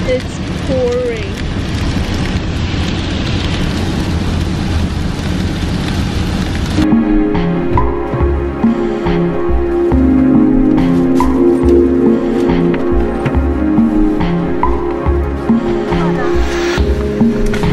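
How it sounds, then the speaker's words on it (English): Heavy rain pours outdoors on a hike in New Hampshire, a steady loud hiss of rainfall on surfaces that continues throughout, shifting in tone partway as the setting changes. "It's pouring."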